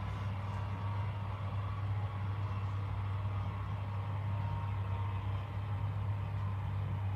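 A car running hard on a dyno, a steady loud engine drone with a strong low hum held evenly throughout, no voices.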